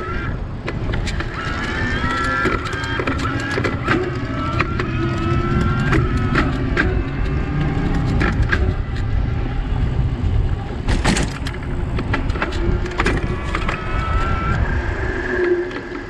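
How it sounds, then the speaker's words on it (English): Surly Big Easy e-bike with a Bosch motor, ridden while shifting through the gears, gives a whirring drivetrain hum under wind rush, with repeated sharp clicks and clunks of shifting and a louder knock near the middle. "we got high RPM, a little bit of noise there, shifting through all the gears"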